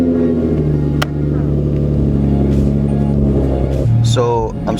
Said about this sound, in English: Let's do a little cold start for you guys.